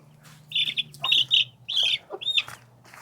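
A chicken clucks several times in short, irregular bursts, close and fairly clear, with a low steady hum in the background.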